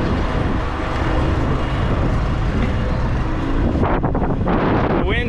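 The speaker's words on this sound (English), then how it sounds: "The wind's picking up." Strong wind blows outdoors beside a corn planter on a farm field, a loud continuous rumbling roar of buffeting microphone noise that fills the whole stretch with no letup.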